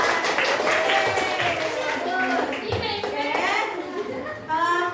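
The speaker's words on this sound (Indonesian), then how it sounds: "kita kasih tepuk tangan yang meriah untuk mereka" Children in a classroom clap and applaud, a busy burst of hand claps mixed with lively kids' chatter and shouting, close by and continuing throughout.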